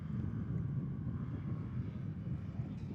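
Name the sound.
STOL airplane coming in to land at competition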